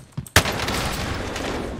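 Gunfire cracks out in a Warzone match, a sharp loud burst that breaks suddenly out of a quieter moment and then carries on as a dense rattling fusillade.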